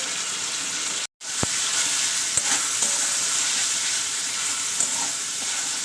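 Tilapia pieces stir-fry with Kashmiri chilli powder, turmeric and salt, a loud steady hiss of frying broken by a brief dropout and a few sharp utensil clicks against the pan.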